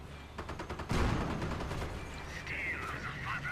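Gunfire from a WWII real-time strategy battle, an anti-tank gun firing on a Panzer IV: a dense rattling burst of shots with a heavy boom near one second, continuing under a steady battle din.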